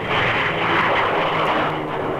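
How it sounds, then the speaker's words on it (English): Airplanes at an airport, a loud continuous roar of aircraft engines that stays steady and close throughout, with no voices. "Just listen to the noise the planes are making."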